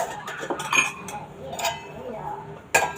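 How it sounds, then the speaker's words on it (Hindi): Clean dishes and cutlery clinking and clattering as they are put away in a home kitchen, several close metallic chinks and knocks at an irregular pace, with a faint voice in the background. "साफ बर्तन लगा देती हूँ"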